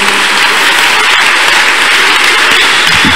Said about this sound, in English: A big clap offering to Jesus.